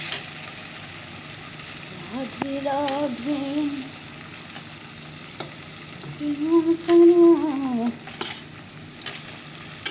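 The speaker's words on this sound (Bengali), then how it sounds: "চলো এবার আমি আলুগুলোকে ছেড়ে দিই মশলাটা কষানো হয়ে গেছে প্রায় আর একটু আলুটা দিয়ে কষিয়ে নেব" Potatoes fry in an egg masala, giving a soft, continuous sizzle with stirring scrapes. A voice is heard in the background.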